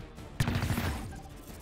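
Gunfire in the tactical video game XCOM: Chimera Squad: a sudden sharp report followed by a short rattling burst of shots that tails off, moderately loud amid quiet game ambience.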